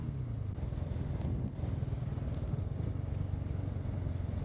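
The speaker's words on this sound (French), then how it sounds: "J'espère qu'on entend bien le bruit de la moto" A KTM 690 motorcycle riding at high speed, its engine a steady, dense drone with broad wind rush layered over it, loud and continuous from the rider's position with no talk.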